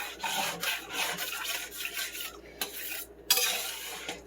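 A utensil scrapes and rubs across the bottom of a pan, loosening browned fond into chicken broth and lemon juice for lemon garlic chicken, with continuous close scratching strokes, a brief pause, then resumed scraping over a soft simmer.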